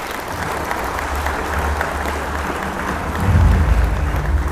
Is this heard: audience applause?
yes